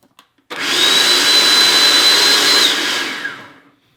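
A food processor grinding white chocolate ingredients roars loudly and steadily for about three seconds with a high whine, then winds down and stops.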